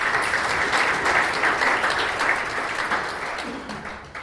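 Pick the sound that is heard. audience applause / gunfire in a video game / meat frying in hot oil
audience applause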